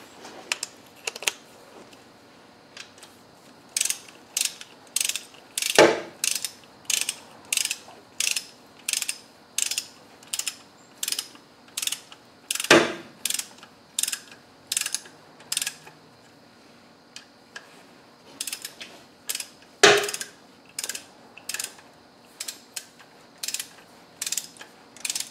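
A ratchet tightens bolts before they are torqued to 25 newton meters, making close, steady rapid clicking strokes with a few louder sharp clacks between them.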